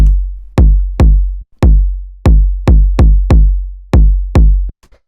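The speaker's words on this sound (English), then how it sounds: "So yeah, this is just an 808 kick." Deep booming 808 kick hits thump in an irregular pattern, each with a long low tail, loud and isolated, an acid breakbeat techno kick.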